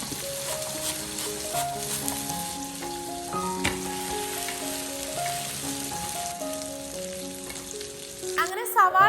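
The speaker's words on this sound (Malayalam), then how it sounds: "ഇനി ഈ തക്കാളിയും സവാളയും വറ്റൽ മുളകും എല്ലാം കൂടെ എണ്ണയിൽ നന്നായിട്ടൊന്ന് വാടി വരട്ടെ" Tomato, onion and dried red chilies sauté in oil, giving a soft, continuous sizzle beneath a melodic music track that plays throughout.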